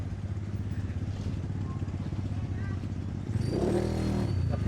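A motorcycle engine putters and clatters steadily while riding through flood water, with a rising rev and sloshing toward the end, as people talk over it.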